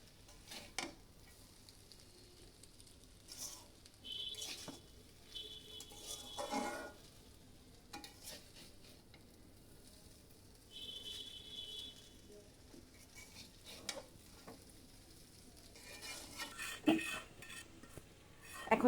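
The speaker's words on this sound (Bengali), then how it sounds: "নুডলসটাকে সুন্দর করে মিক্স আপ করে নিতে হবে এখন।" Noodles stirred and mixed in a frying pan for dinner, quiet scraping and clinking of a utensil against the pan in short intermittent bursts over a faint low sizzle.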